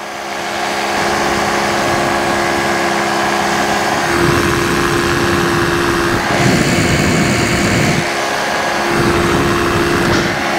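Steady engine drone from a Dragonfly aircraft climbing in flight, loud and continuous throughout with a constant tonal whine, its texture shifting slightly partway through.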